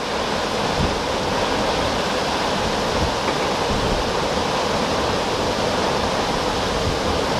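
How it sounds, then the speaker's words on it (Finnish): A storm churns with strong wind and crashing waves, a loud, continuous, dense roar that fills the whole stretch without pause or talking. "On tää kyllä aikamoinen myrsky."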